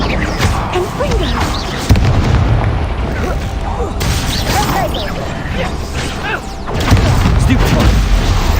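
A Confringo fire spell explodes in Hogwarts Legacy: booming bursts within a dense, continuous wash of spell-casting and combat effects, with sharper hits near two and seven seconds.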